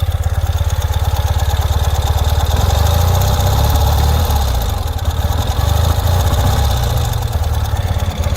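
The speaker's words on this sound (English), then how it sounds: "Idles very comfortably. Love the way these engines sound." A 2021 Ural Gear Up sidecar motorcycle engine idles close by with a steady, even rumbling beat, loud and unbroken with no talking.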